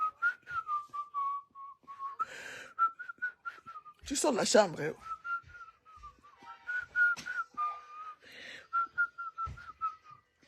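A person whistles a cheerful melody in a steady tone through most of the stretch, broken by rustling and brief noises, with someone speaking briefly in French.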